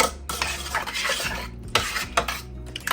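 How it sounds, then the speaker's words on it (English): A spoon stirs two meatball sauces in a pot on the stove, giving repeated scraping and clinking strokes against the metal with short pauses, close and loud, no voices. "we're going to go ahead and stir our sauces"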